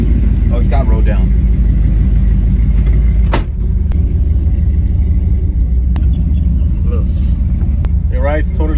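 A lowered Chevrolet C10 squarebody pickup truck cruises on the road with a steady, loud low engine rumble and road noise throughout, while people talk briefly inside the cab.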